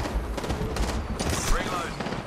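Rapid gunfire in the Apex Legends video game, a dense burst of shots under game sounds and voice callouts.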